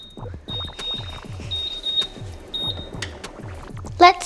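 Oven preheat alarm beeping in a home kitchen while a vanilla cake is being made, a steady high electronic tone with repeated beeps over a faint rhythmic background pulse, fairly quiet and brief.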